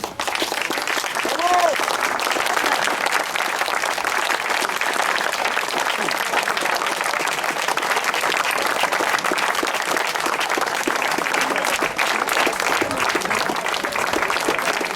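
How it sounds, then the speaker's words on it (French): A crowd applauds steadily at an outdoor protest rally in front of a hospital and care home in La Garde, France, with dense, even clapping held at constant loudness for the whole stretch. "avant de commencer de faire la prise de parole, on va d'abord s'applaudir."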